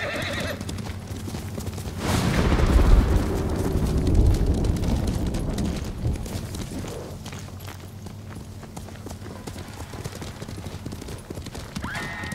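Galloping horse hooves in the PS5 game Ghost of Tsushima, a dense rumbling clatter that swells for a few seconds, then fades under a steady background of game ambience, with no talk.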